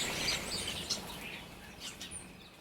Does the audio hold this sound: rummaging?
no